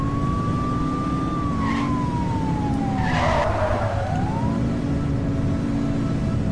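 Tires squeal as a car drifts in The Precinct, a crime thriller video game: one long, wavering screech that bends downward and then flicks back up, over a steady engine hum.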